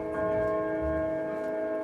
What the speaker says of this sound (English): I'm going to wait for my clock to quit chiming.